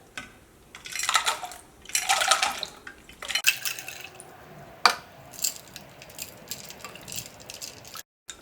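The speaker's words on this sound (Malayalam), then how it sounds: "അപ്പോൾ ഞാൻ കുറച്ചും കൂടി വെള്ളം ചേർക്കുന്നുണ്ട് കേട്ടോ." Water chilled with ice is poured into green grape juice in several short, close splashing bursts, with sharp clinks and drips between pours and no talking.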